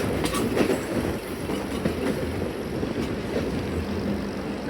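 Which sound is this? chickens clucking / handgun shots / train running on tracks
train running on tracks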